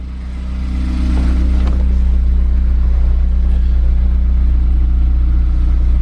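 A Ford Focus ST with a built engine and catless downpipe idles close by with a deep, steady, rumbling drone that swells slightly in the first second, then holds even and loud.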